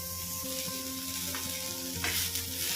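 Ground spices being sautéed in a pan over low gas for a Karnataka-style curry masala, a steady soft sizzle and frying crackle with occasional stirring scrapes, continuous and close.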